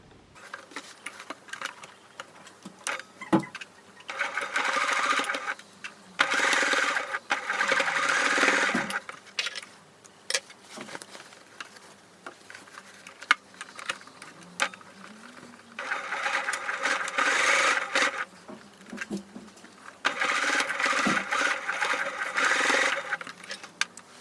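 A home sewing machine stitches down a skirt facing in several close, loud bursts of a few seconds each, with short pauses and handling noise between the runs.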